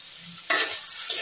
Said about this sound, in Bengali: আলু, কুমড়ো, পেঁয়াজ সব ভাজা ভাজা হয়ে গেছে।